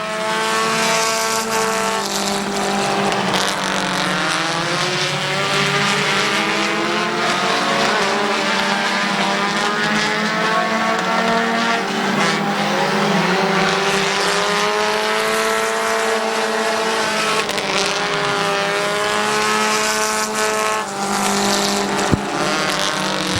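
Race cars roar around the Midvale Speedway oval in a loud, continuous pack, engines rising and falling as they pass, with tire noise and no talk over the din.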